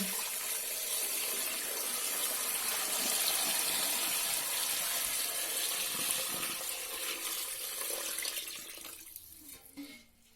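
Cooled boiled syrup marinade poured over meat being prepared for Easter smoking, a steady splashing liquid pour that runs continuously at close range before tapering off near the end.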